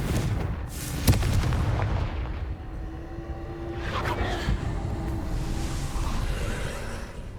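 A Confringo fire spell from Hogwarts Legacy bursts with a sharp boom early on, followed by softer crackling blasts and whooshes over a busy game background.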